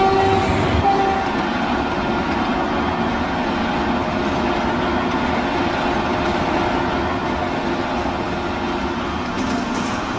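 A rescue train rolls along the rails in a steady, loud rumble with wheel clatter, and a short horn tone sounds near the start, with no talk over it.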